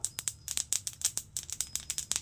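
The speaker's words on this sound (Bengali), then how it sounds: "দেখো তিলগুলো কেমন ফুটছে" Sesame seeds dry-roast in a pan over medium gas, crackling with rapid, irregular little pops and ticks heard up close, with no speech.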